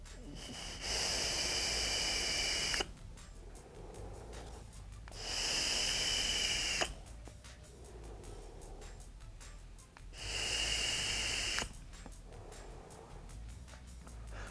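A Wismec Reuleaux RXGEN3 mod with a Gnome sub-ohm tank fired three times, each puff a loud airy hiss lasting about two seconds, separated by quieter breathing and exhales up close.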